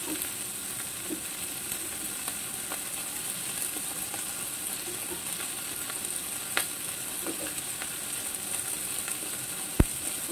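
Vegetables for yakisoba noodles with Spam sizzle steadily in a hot pan during a quick stir-fry, a close, even hiss broken by occasional clicks and scrapes from stirring.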